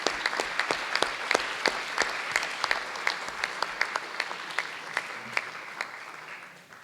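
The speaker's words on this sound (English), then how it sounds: "So I just wanted to make sure we give Jefferson boys basketball 22-23 team a round of applause" A roomful of people at a school board meeting applauds a high school boys basketball team, a dense, steady round of clapping that gradually fades toward the end.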